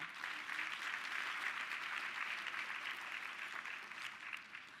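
Steady applause from an audience at a women-in-trades program event, continuous clapping heard at a moderate distance with no talking over it.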